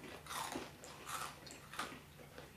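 Someone bites into a large, crisp Japanese doughnut and chews it, giving a few soft crunches in a quiet room with no talking.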